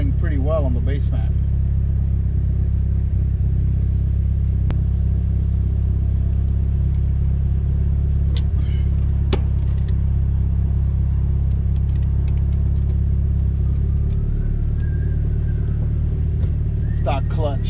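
A Mitsubishi Evo 8 idles steadily on a dyno, a constant low rumble filling the whole stretch while someone speaks over it with a few clicks and clanks around.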